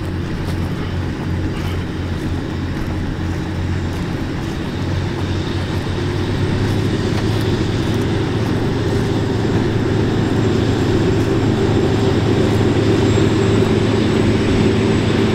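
A steady, loud engine drone with a low mechanical rumble builds slowly as a heavy tractor in a video game draws nearer, with no talking.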